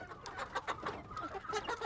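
Chickens cluck on a farm in Benin, several birds making short, close, irregular clucks with no voices.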